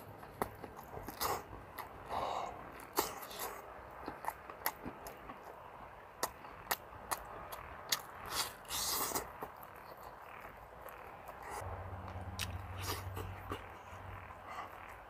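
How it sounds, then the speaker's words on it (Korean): Boiled lamb ribs are torn and chewed close up outdoors, with irregular wet bites, crunches and smacking sounds scattered through the clip, fairly quiet, over a faint low hum. "가까이서 뜯어 먹게요."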